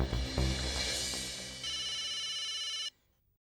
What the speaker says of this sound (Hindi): तो तू एक काम कर, और तू टप्पू को फोन कर